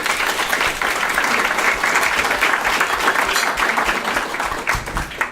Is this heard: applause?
yes